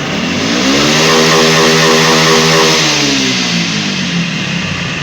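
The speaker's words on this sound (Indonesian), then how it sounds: "Setelah itu putar gas ke RPM paling atas." A motorcycle engine is revved up to its top RPM during a maintenance test: a loud, steady, high-pitched whine that rises and then slowly falls back, heard alone with no talk.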